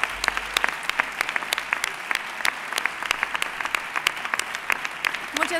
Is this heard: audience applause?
yes